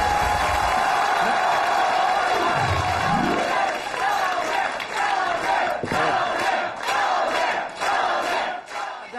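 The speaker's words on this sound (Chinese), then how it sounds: "大家伙的这欢呼啊" A studio audience at a Chinese televised comedy talent show cheers and shouts loudly and continuously, a dense roar of crowd voices with bursts of clapping running throughout.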